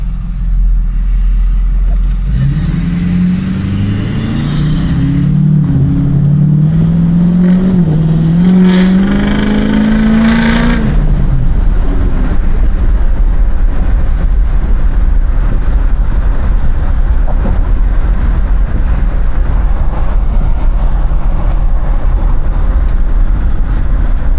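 A 6.4 Powerstroke diesel truck with a Turbonator VGT turbo roars as the turbo spools up, a rising whistle climbing over the engine for several seconds before easing off into a steady, loud cruising drone.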